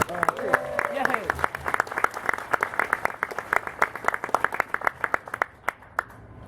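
An audience claps for Priya Bhat Patel, a speaker at a coach and cab car unveiling event, with a steady run of distinct, fairly close hand claps that thin out toward the end, over a faint background voice.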